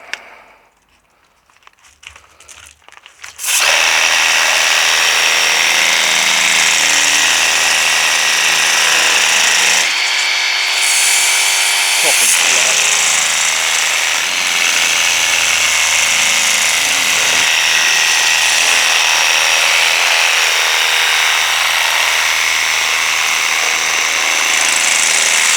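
A Worx WG633 Hydroshot 20V cordless pressure washer fitted with a turbo nozzle roars into a loud, steady hissing spray that runs continuously for over twenty seconds after a short quiet start, with a brief pitch dip midway.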